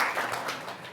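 Brief burst of audience applause at a climate change talk, a dense wash of clapping that fades quickly within a second.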